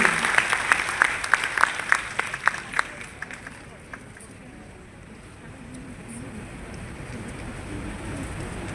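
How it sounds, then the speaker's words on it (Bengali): An audience at a cultural event gives a short burst of clapping to welcome honoured guests, sharp and close for the first few seconds, then fading into a low room hum. "আমরা জোরে করতালি দিয়ে সম্মানিত অতিথিবর্গকে স্বাগত জানাই"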